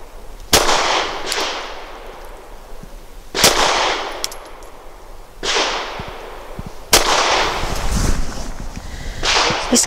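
Four sharp, loud pistol shots from a Sig P365 XL firing Sig V Crown 115 grain jacketed hollow points, spaced a few seconds apart, each with a short ringing tail and no talking.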